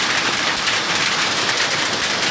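Heavy rain mixed with hail pours down in Shahbag, Dhaka, during a violent storm, a dense, steady hiss of hard drops pelting surfaces without pause, loud and close throughout.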